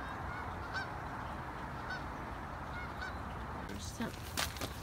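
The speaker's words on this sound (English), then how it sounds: "the ducks" Ducks flying away for the winter honk faintly and at a distance in a few spaced calls over steady outdoor background noise, followed by a short burst of closer rustling.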